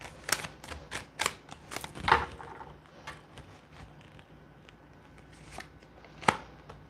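Tarot cards shuffled by hand in a quiet room: a run of crisp riffling bursts and soft slaps, with sharp peaks every second or so, then gentler riffles and a final snap near the end.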